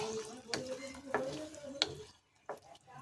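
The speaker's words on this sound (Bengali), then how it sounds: "ডিমগুলো এইভাবে আমি একটু নাড়িয়ে দেবো" Eggs stirred in a hot pan give a sizzle broken by four or five sharp spatula scrapes in an uneven rhythm, with a brief faint voice-like tone near the start.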